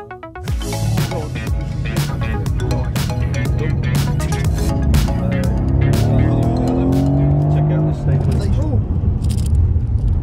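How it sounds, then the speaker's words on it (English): A car driven fast around a race circuit, its engine rumbling and revving loudly and continuously close by, with tyre noise and a voice speaking over it throughout. "we've just got out of the car with Cliff, who took us for a quick thrash around the circuit"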